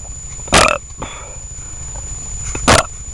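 Two loud, short burps about two seconds apart from someone on a muddy motorcycle trail ride at Morro Santana, with a weaker throaty sound between them over outdoor background noise.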